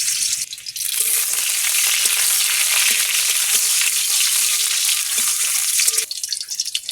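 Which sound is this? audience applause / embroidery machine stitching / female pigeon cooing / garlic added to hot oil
garlic added to hot oil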